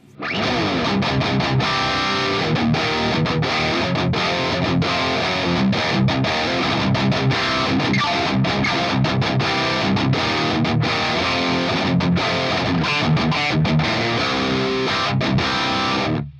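Heavily distorted electric guitar played through an Engl amp model on an Ampero II Stomp, a loud, dense rock/metal tone sustained throughout with chugging rhythmic riffing and no talk.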